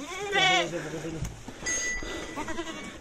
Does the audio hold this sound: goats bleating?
yes